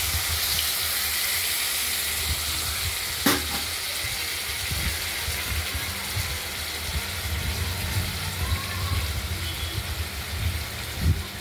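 Prawns and pointed gourd fry in hot oil, making a continuous dense sizzle with a low rumbling hum beneath and one sharp click early on; no voices.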